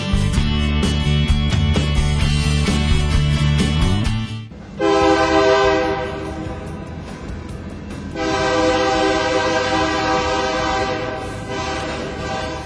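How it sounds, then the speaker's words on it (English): A freight train horn blares loudly and steadily in Grand Forks, cuts off, then sounds again in long sustained blasts over the rumble of passing railcars. "This has been the sound associated with trains going through Grand Forks."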